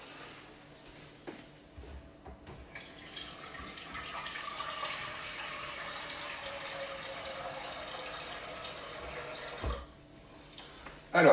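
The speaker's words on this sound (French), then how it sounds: "je vais mettre de l'eau dedans" Tap water runs into a saucepan for about seven seconds, a steady close rushing stream that starts and stops cleanly, preceded and followed by small handling knocks.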